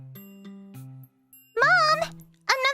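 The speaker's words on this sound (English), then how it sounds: "Another doorbell!" A home doorbell sounds a soft stepped chime, followed by a child calling out loudly nearby.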